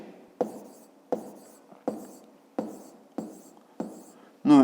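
Numbers are written by hand in six evenly spaced, sharp strokes, each a crisp scratch that fades quickly, followed by a brief louder burst at the very end.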